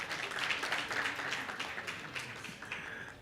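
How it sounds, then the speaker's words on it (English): Moderate applause from an audience at a formal meeting, a few seconds of scattered clapping that fades slightly toward the end. "A round of applause for him."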